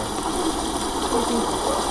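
Dark water in a cistern in the horror game Amnesia, a steady, loud rushing and gushing wash of flowing water with no breaks.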